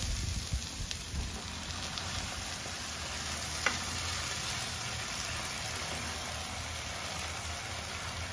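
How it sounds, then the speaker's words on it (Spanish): Ground tomato and serrano chili hit hot oil in a frying pan, giving a steady, dense sizzle that runs the whole time, with a few soft stirring clicks early on and a single sharp tap near the middle, close up with no voices. "Es momento de agregar el tomate y el serrano que acabamos de moler."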